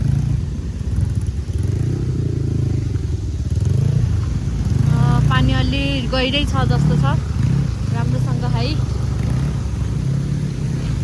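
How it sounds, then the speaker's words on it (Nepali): A car and a motorbike pass on a mountain road near Ghandruk with a steady, loud engine rumble, while people nearby talk over it. "गाडी जान्छ, त्यसपछि यो बाइक जान्छ अनि हामी जान्छौँ"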